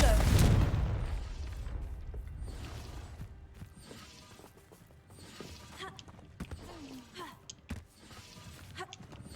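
A Confringo fire spell explodes in Hogwarts Legacy, one loud booming burst right at the start that fades into quieter clattering and magical effects, with a voice speaking briefly.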